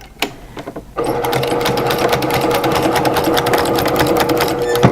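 Sewing machine stitching a rag quilt: after a brief pause and a few clicks, the motor starts near and runs loud and steady with a rapid, even needle chatter to the end.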